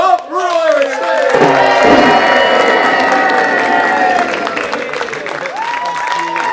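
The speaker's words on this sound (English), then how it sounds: "Prepare to take your bow as this mob applauds uproariously." A large crowd applauds and cheers uproariously at a staged theatrical event, loud and dense throughout, with a brief lull at the start before the roar swells and holds.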